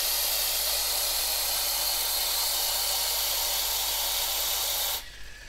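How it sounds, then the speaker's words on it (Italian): Tap water pours steadily into a cooking pot being filled to the brim for boiling potatoes, a loud continuous hissing rush that stops abruptly near the end. "Mettiamo in una pentola con acqua e adesso riempiamo"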